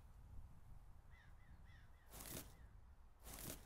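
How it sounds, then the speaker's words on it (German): Ravens caw several times in a short series, faint and distant, followed by two loud, sharp bursts of noise. "Hörst du die Raben?"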